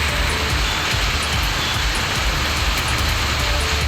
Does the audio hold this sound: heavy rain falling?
yes